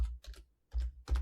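Three short bursts of computer keyboard typing, close and quiet, with brief pauses between them while a file name is entered.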